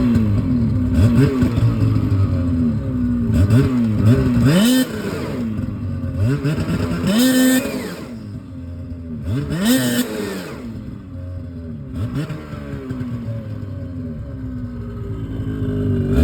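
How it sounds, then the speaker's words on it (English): A Ski-Doo 850 Turbo R snowmobile fitted with a Diamond S titanium exhaust can is revved repeatedly, its engine note swelling and falling in several sharp blips over a steady idle, close and loud with no voices. "Ski-Doo 850 Turbo R with the Diamond S titanium can."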